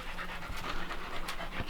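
Dogs pant rapidly and close by during a hike in the Pennsylvania Wilds, a quick rhythmic breathy huffing that carries on without pause for under two seconds, with no talking.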